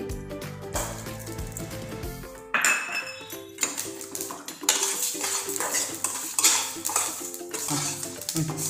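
Sesame seeds and whole spices such as cinnamon roasted in a pan for Kolhapuri tambda rassa, with a spoon scraping and clinking against metal in steady irregular strokes, close and fairly loud, and a faint sizzle underneath.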